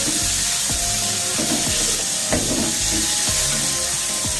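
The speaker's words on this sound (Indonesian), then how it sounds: "jadi wortelnya diaduk dulu supaya lebih cepat lembut" Carrots being stirred in a hot frying pan, with a steady close sizzle broken by repeated scraping strokes of the spoon against the pan.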